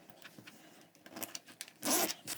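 Zipper slider being fitted onto a zipper tape while sewing a circular drum-shaped cross-body bag, giving short zipping scrapes and clicks that end in a louder, longer rasp, close and alone.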